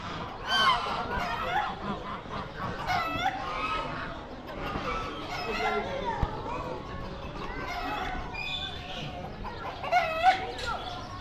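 Ducks at a farm zoo in Bahrain give repeated honking, squawking calls close by, mixed with the chatter of people and children talking throughout.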